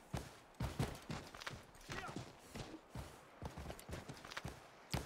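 Horse hooves clopping in Assassin's Creed III Remastered, an irregular run of sharp close hoof strikes as the horse is ridden, with softer scuffs between the louder hits.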